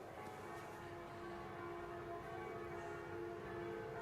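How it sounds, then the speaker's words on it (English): Faint, distant church bells in Paris ring with a sustained, resonant hum, heard alone at low volume. "places like Paris, where the actual church bells were ringing"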